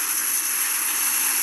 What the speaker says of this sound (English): Actually, airplane sounds like from the outside.